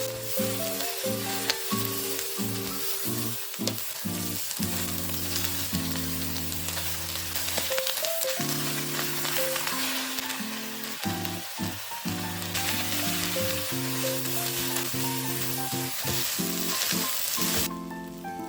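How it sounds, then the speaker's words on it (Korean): Spinach sizzles and stir-fries in a hot pan with fish cake as a japchae topping, a steady frying hiss that runs throughout beneath prominent background music. "마지막에 시금치를 넣어 살짝 숨이 죽을 정도만 익혀줘."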